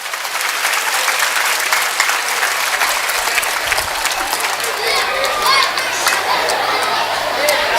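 An audience at a Marathi school's jubilee event breaks into sustained applause, a dense, loud wash of clapping from a large crowd that holds steady throughout, with faint chatter mixed in.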